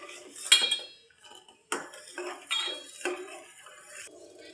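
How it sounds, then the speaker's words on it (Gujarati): A spoon stirs milk in a metal pot over a low gas flame, giving quiet, irregular clinks and scrapes against the pot with short pauses between strokes. "આપણે દૂધને આવી રીતે થોડીક વાર હલાવતા રહેવું ધીમા ગેસે."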